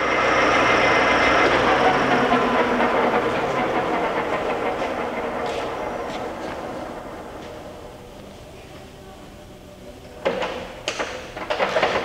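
A Lagun vertical milling machine with a geared-head 50-taper spindle runs with a steady mechanical hum and gear whine that slowly winds down, followed by a few clunks near the end.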